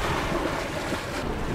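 Sailboat motoring under engine power across a calm, almost windless sea at sunset, a steady broadband rush of water and wind noise with no voices.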